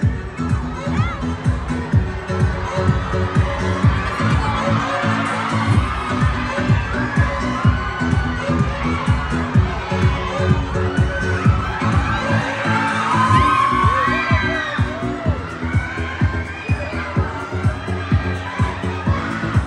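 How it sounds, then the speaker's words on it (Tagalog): Large crowd of fans at a film premiere cheering and shouting steadily and loudly throughout, with high-pitched screams and whoops rising over a dense roar of excited voices. "The crowd is there!"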